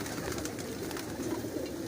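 A pigeon coos softly and repeatedly, its low throaty calls close by over faint background noise.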